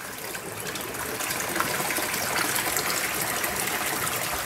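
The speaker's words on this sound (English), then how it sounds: "the water here will overflow, and it'll come out" Water gushes steadily out of the siphon overflow of a small aquaponic demo kit, a continuous close rushing and trickling flow that builds slightly and then holds.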